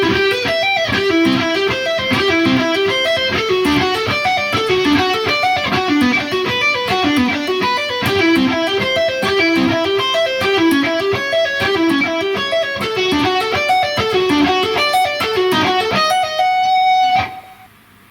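Electric guitar plays steady string-skipping arpeggios through a pre-chorus passage, loud and continuous with a clear repeating note pattern, ending on a held note before cutting off.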